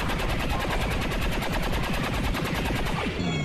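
Steady rapid-fire gunshots in XCOM 2 War of the Chosen pound out at an even rhythm for a few seconds, loud and close, ending in a short mechanical sound.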